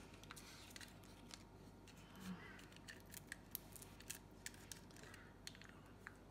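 Scissors snip steadily through cardstock paper as it is trimmed to size, a series of quiet crisp cuts in an irregular rhythm, close and alone in a quiet room.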